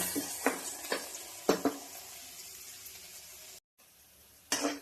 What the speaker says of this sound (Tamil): நல்லா வதங்கட்டும் நல்லா பொன்னீரமாக ஓட்டும் வெங்காயம்